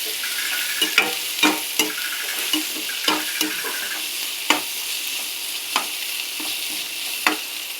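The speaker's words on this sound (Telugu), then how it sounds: "ఇదంతా పచ్చివాసన పోయే వరకు వేయించుకుందాం." Ginger garlic paste frying in a pan for a leafy-greens pulao, a continuous sizzle broken by repeated scraping strokes of a spoon at an uneven rhythm, close and fairly loud with no talking.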